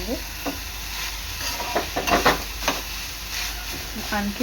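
Vegetable curry of wild abai (flat bean) pods being turned over in a pan, giving a soft steady sizzle with a few brief scraping stirs and clinks, close and moderate in level, with no talk.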